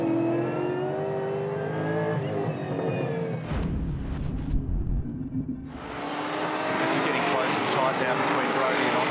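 Repco Supercars race cars at the ITM Taupō Super 440, engines roaring and whining past with shifting pitch, a deep rumbling pass in the middle, and a commentator talking over the noise.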